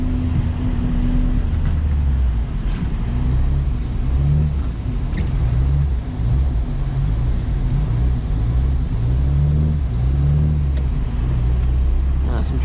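A 1984 Toyota Tercel 4WD engine hums and revs in rising and falling surges as the car drifts across snow, heard steadily from inside the car.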